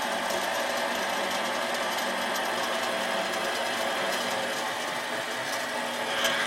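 A metal lathe cutting threads runs with a steady, dense mechanical whir and faint rhythmic ticking, constant and close throughout with no pauses or talk.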